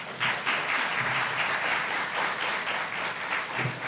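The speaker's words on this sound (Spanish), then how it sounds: "Por favor, recibámosla con un fuerte aplauso." An audience welcomes a speaker at a forum on big data and access to information with sustained, dense applause, even and fairly loud throughout four seconds, no talking over it.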